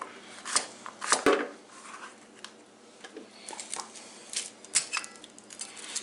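A knife slicing cucumber into half-moon slices on a cutting board gives quick, irregular crisp chops and taps, faint and close, with one sharper knock early on.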